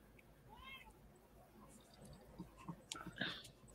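A domestic cat gives one short, close meow early on, then goes quiet. Soft clicks and rustling handling noises follow at low volume.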